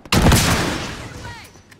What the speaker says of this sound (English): I'm gonna shoot a rocket.